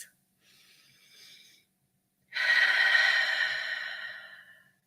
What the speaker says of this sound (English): Let's do a couple deep breaths.